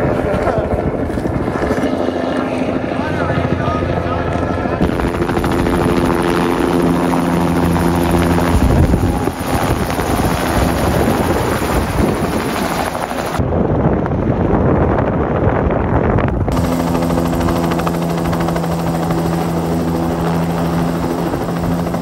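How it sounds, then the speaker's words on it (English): Helicopter rotor thudding steadily and loudly throughout, approaching near a cliff-edge outdoor setting, with wind buffeting the microphone and some voices underneath. "Here's the heli!"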